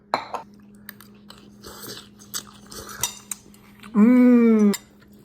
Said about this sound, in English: This is me doing the dishes to finish up the day